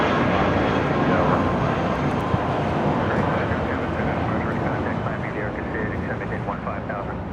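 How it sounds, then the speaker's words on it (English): A Spirit Airlines Airbus A320 takes off at LAX with a loud, continuous jet roar that fades slightly as it climbs, while voices talk over it. "That was Spirit 507 taking off to Las Vegas on an A320"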